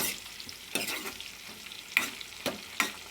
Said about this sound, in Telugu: కరివేపాకు వేసుకోవాలి.